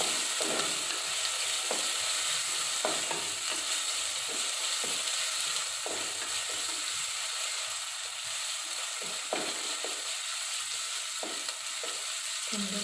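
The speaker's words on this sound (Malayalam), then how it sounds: "നന്നായി പച്ച മണം മാറുന്നവരെ ഒന്ന് വഴറ്റുക" Green chillies sautéing in a pan for a bitter gourd dish, a steady close sizzle with occasional stirring scrapes and taps, heard alone.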